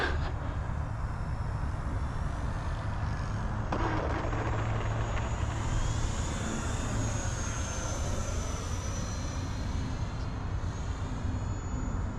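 An FMS F-18 Hornet radio-control jet with a 64mm electric ducted fan flies overhead, giving a steady, distant whooshing whine that rises and falls slightly as it passes, with no talking.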